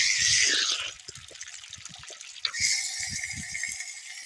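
Water runs steadily from a tap fitted with a cock on a farm, a continuous close splashing flow that shifts in tone partway through, with no talking.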